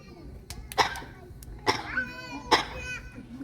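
A bird gives three short, sharp little coughs in quick succession, close by, at a bird show at African Lion Safari, Canada, with faint chatter in the background.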